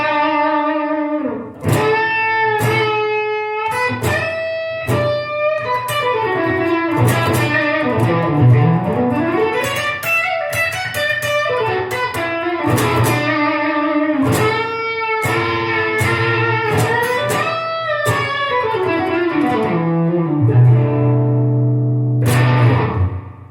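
Distorted electric guitar through a Line 6 HX Stomp fuzz on the bridge pickup, a thick, buzzy tone with a short slapback echo, playing chords and bending lead lines continuously and loudly, no talking.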